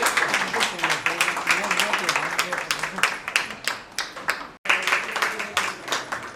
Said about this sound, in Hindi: तो एक बार जोरदार तालियां मैम के लिए।